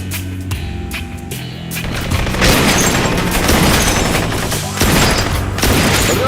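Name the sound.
gunfire in the video game Blue Estate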